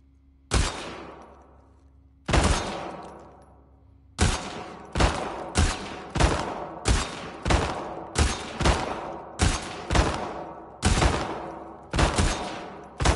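Gunfire in the video game The Last of Us Part II, a string of about fifteen sharp, loud shots, widely spaced at first and then coming faster in a steady rhythm, each with a short decaying tail and no talk.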